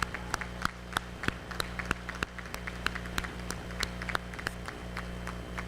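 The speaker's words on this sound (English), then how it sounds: "Let's give them all another round of applause." Scattered applause from an audience at a school district retirement reception, with sparse individual claps popping over a steady low hum in a large room, fairly quiet and even throughout.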